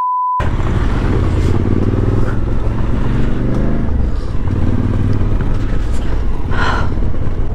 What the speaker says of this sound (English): It's a truck.